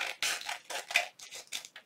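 Scissors snip and slide along the edge of vellum sewn onto a junk journal page, a quick run of close, crisp cuts in uneven bursts, with no voices.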